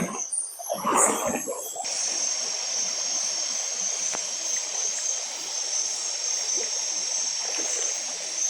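River stream flowing through a tropical forest, a steady broadband rushing hiss that holds constant after a brief louder rustle at the start, close and continuous with no talking.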